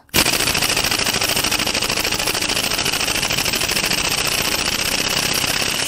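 An air impact tool hammers continuously at a tight bolt on a Mercedes M156 6.2L V8 AMG engine, a loud, close, rapid rattling blast that starts abruptly and holds steady for several seconds.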